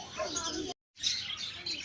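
Birds chirp and tweet steadily at moderate volume in Qatar, with a brief silent gap partway through.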